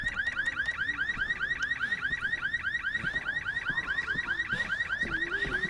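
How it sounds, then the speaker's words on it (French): A loud electronic alarm in the video game Resident Evil 6 wails in rapid repeating rising sweeps, continuous and unbroken, with faint scattered background noises beneath it. "pour déclencher une alarme"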